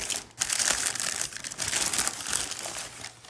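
Packaging is crinkled and torn off an antique brass mortar and pestle, close-up paper or plastic rustling in bursts over a few seconds.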